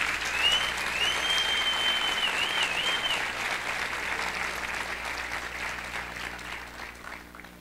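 An audience at the opening ceremony of an international congress breaks into loud, sustained applause that gradually fades, with a shrill whistle cutting through early on.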